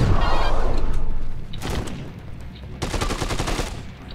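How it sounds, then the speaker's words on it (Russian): Rapid bursts of gunfire at zombies in Dead Rising 2, loud, close and repeated automatic shots in two clusters, with someone talking briefly between them. "Это хуйня, которая вот пушка. Она его не сильно дамажит, Ладис."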